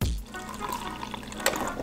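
Water is poured into a container, a short splashing and gurgling fill close up, loud and continuous for a couple of seconds with no talking.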